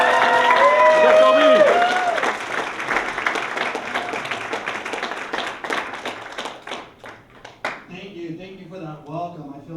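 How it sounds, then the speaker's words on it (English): Audience applause for the MC at a community event honoring a 1990 hunger strike. A tonal voice-like sound opens, then a crowd's claps build and fade over several seconds, and a man's speech comes in near the end. "Please give a round of applause to our MC"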